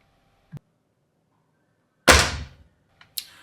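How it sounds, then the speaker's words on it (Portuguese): A small click, then a sharp, loud burst of a Rossi Dione 4G air rifle firing, measured at about 108.7 decibels, with a short fading tail and a faint clatter afterward. "aquele nível máximo que vai atingir de ruído que essa carabina vai gerar"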